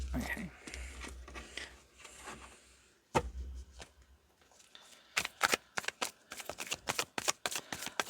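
Tarot cards are shuffled by hand, first as a soft rustle and then as a quick run of crisp slaps and riffles, close up with a few words spoken in between.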